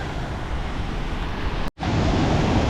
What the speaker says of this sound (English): there's a river, which has got a cool waterfall and a cool bridge